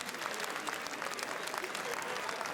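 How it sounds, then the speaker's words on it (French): The film team of Burning receives sustained applause on the Cannes red carpet steps in 2018, a dense, even clapping from a large crowd heard from a distance, with faint voices mixed in. "c'est toute l'équipe de Burning qui est applaudie"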